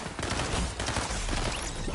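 Dense, continuous gunfire in a Fortnite match, a rapid barrage of close, loud shots packed together with no real gaps across two seconds.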